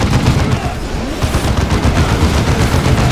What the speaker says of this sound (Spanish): Vamos a pegar un disparo guapo a esto. Hostia, la plasma